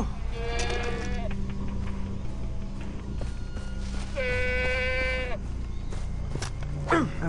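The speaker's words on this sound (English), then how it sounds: "That's a goat!" Goat in the video game Far Cry 3, two distinct bleats over a constant game background hum, close and clear, with a short rustle near the end.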